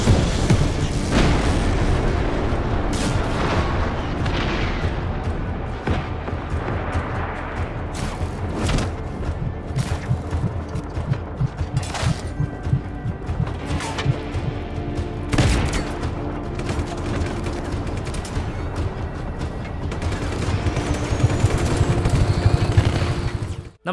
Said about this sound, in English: exploring the massive world, causing many things to explode